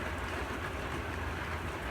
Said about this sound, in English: Rain's really coming down now.